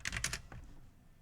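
A few quick keystrokes clatter on a computer keyboard, close and crisp, in a short burst of four or five taps before fading to quiet.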